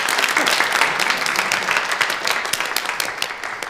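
A gathered crowd at a hot-spring resort company meeting gives warm applause welcoming the chairman, a dense burst of many hands clapping close and loud, easing off gradually over a few seconds.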